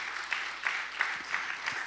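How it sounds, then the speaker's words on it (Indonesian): Congregational applause at a church service, heard as a faint, distant wash of clapping with soft rhythmic swells recurring about every third of a second, steady and low throughout. "Tepuk tangan yang meriah."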